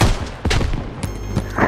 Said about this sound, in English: I'm gonna shoot a grenade at the hole.